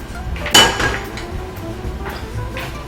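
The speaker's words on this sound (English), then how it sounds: "It's going into our breadcrumbs and we're gonna stir it up." A spoon scrapes and clinks in a bowl as hot milk mixture is stirred into breadcrumbs, with one louder knock near the start followed by softer intermittent scraping, close by.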